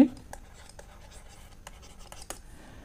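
Marker or pen writing on a board while math is worked out, short scratchy strokes in quick bursts, close and fairly quiet.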